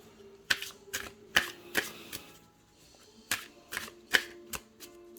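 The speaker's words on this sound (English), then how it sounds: "this feels like a good amount of shuffling" Tarot cards being shuffled by hand, a series of crisp riffling bursts and soft slaps spaced irregularly, close up and alone without talk.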